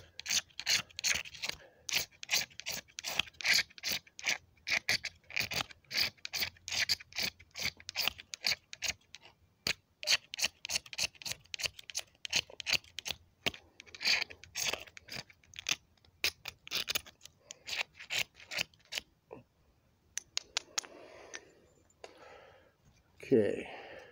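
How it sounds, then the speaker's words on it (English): Repeated scraping strokes shave a magnesium block onto a flat piece of wood for fire starting, a steady run of close, rasping scrapes that slows and thins toward the end. "we're going to peel some magnesium onto this flat piece"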